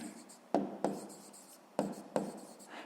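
A pen writes a maths answer on paper in short, separate bursts of scratching strokes with quiet pauses between them, close and fairly soft.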